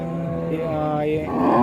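A Jersey cow at a cattle market lets out a low, drawn-out moo, close and fairly loud, rising at the end amid faint surrounding noise.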